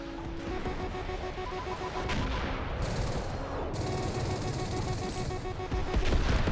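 Aircraft cannon fire in the jet combat game Metalstorm, a steady dense stream of rapid shots layered over constant engine roar, with brief bright bursts midway, loud and continuous throughout.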